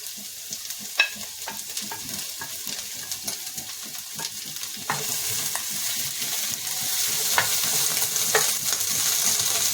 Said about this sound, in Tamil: கொஞ்ச நேரம் மிக்ஸ் பண்ணிக்கலாம்.